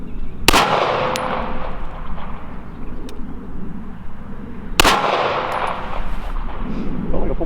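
A S&W 5906 PPC 9mm pistol with a 6-inch barrel fires two sharp, loud shots several seconds apart, each followed by a ringing echo over a steady outdoor background.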